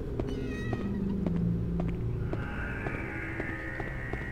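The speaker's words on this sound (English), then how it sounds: "the chandelier squeaked and I thought it was my cat." A creaky chandelier in the Haunting Ground video game squeaks with thin, wavering, meow-like tones over a low rumbling ambient drone, a few drawn-out creaks following one another.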